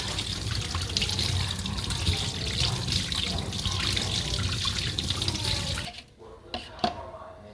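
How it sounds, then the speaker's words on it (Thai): Running water from a tap pours steadily over herb leaves being washed, a close, continuous splashing rush that stops near the end and leaves a few drips and small handling sounds. "ล้างทำความสะอาดซะก่อน ล้างสะอาด"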